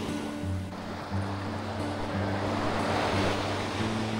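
Ocean waves wash steadily onto a clean beach in South Goa, a continuous close roar of surf with some wind and a faint low hum underneath.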